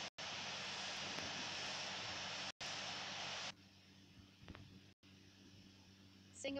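Simulated airliner engines roar steadily during takeoff in the Infinite Flight game, a loud broadband rush that cuts out briefly twice and then drops to a quieter hum.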